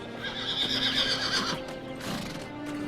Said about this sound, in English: A horse befitting only a king. This is Bucephalus, my best horse.